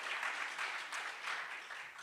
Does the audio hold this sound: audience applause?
yes